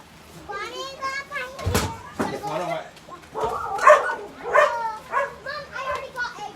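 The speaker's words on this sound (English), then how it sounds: "Darn dogs." Dogs bark and yip in short bursts at a moderate distance, mixed with children's voices and play sounds, with the barks scattered irregularly throughout.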